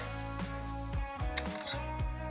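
A 23mm socket taps a new fuel injector into place on a BMW 335i engine, giving a few close metallic knocks and scraping clinks over a steady mechanical hum.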